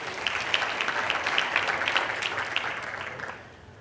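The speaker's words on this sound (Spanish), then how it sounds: "Un aplauso." Audience applause at a financial panel session, a dense wash of clapping that holds steady for a few seconds and then fades near the end.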